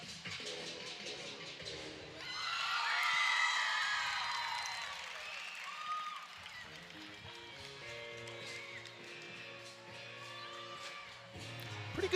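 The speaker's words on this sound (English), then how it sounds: "you can hear the crowd kind of getting into it in the background" Crowd at a college gymnastics meet between La Crosse, Sacramento State and San Jose State cheers and whoops from the stands at moderate distance, swelling for a few seconds before settling into a steady murmur.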